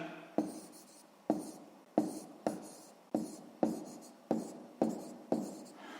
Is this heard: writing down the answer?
yes